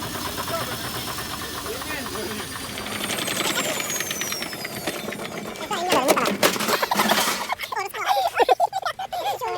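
A washing machine being wrecked in a crash test, its motor running and grinding with clattering, knocking and scraping as it drags along the ground, growing louder and more violent, with people talking over it.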